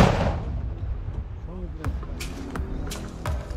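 Several sharp, booming mortar blasts go off at irregular intervals, with loud voices shouting fire commands in Russian between them nearby.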